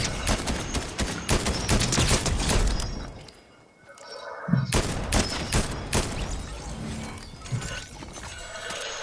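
Dense bursts of gunfire in Fortnite crackle almost nonstop, loud and close, with a short lull in the middle before rapid shots resume.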